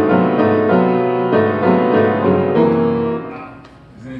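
A Beethoven melody played on piano with tritone harmony underneath, rich sustained chords moving step by step, loud and close, then fading into a softer decaying tail at the end.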